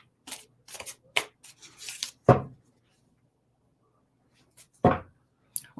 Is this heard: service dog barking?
no